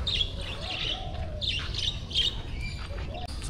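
Parrot calls in the Eclectus parrot area of an island park and beach resort: several harsh, squawking chirps in quick succession over a low background rumble, fairly close and clear with no talking.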